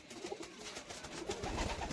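Pigeons cooing in a loft among hand-raised birds, soft low coos over a faint, noisy background.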